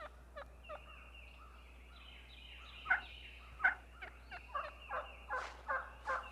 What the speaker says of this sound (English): Assembly calls echo through the woods.